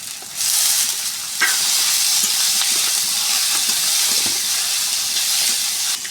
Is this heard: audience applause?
no